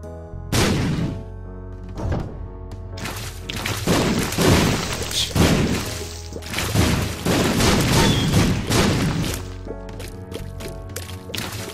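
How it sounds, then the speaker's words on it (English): Bombs exploding in the video game Binding of Isaac, a series of loud booming blasts in irregular succession, each with a heavy low thump and a crackling decay, over a sustained game music bed. "Bombs everywhere."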